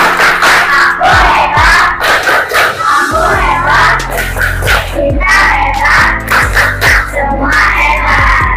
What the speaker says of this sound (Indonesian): kita tepuk hebat terlebih dahulu. Tepuk hebat.